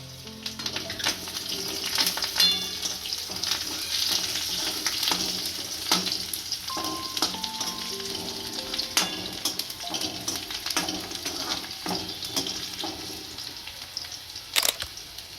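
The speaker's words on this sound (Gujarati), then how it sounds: "આમાં કટિંગ કરેલું લસણ નાખીશું, મીઠા લીમડાના પાન નાખીશું" Chopped garlic and curry leaves fry in hot oil for a spinach and moong dal curry, giving a steady, close sizzle with scattered small pops and crackles throughout.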